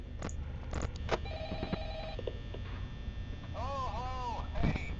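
A phone rings through its electronic trill in the Five Nights at Freddy's horror game, several rings spaced out over a low steady hum, close and clear, with tonal beeps in between.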